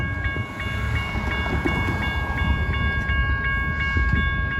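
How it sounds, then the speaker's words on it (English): A Union Pacific train rolls past a railroad crossing, a loud continuous rumble with a steady ringing tone above it and regular rhythmic clicks from the wheels. "that train's moving. Union Pacific's moving."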